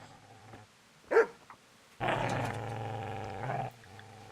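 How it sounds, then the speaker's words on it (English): A dog in Kingdom Come: Deliverance gives one sharp bark, then a sustained loud growl lasting over a second, close and clear with no talk. "That dog really wants that spade"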